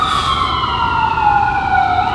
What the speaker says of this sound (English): ambulance that's going behind us